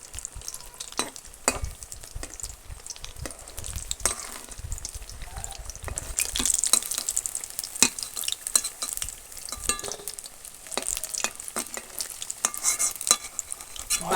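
Spicy okra chops deep frying in oil, a busy close sizzle and crackle with sharp spattering pops and occasional utensil clinks, swelling louder through the middle.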